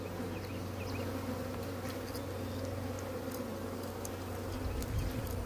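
Dense, steady buzzing of many honeybees swarming close around an open hive with capped brood and larvae, a continuous drone with no pauses and no talking.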